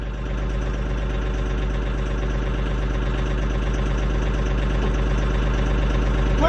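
A new tractor's engine runs at a steady idle, a continuous low rumble with a fine rhythmic knock, close and even throughout with no voices.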